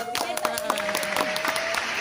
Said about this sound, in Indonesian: Tepuk tangannya dong semuanya